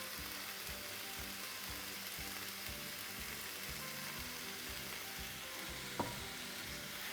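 Chicken crepe filling with vegetables, vinegar and spices sizzles and fries steadily in a pan while it is stirred. A soft continuous hiss runs throughout, with faint scraping and one small clink near the end.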